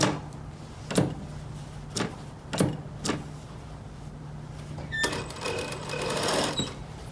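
A sewing machine stitches a throw pillow with a few short separate whirs, then a longer run of stitching near the end, close and fairly loud with no talk.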